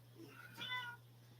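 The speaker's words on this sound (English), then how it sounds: "Come here, Gray Kitty." A gray cat gives a single faint meow indoors, a short rising-falling cry over a low steady electrical hum.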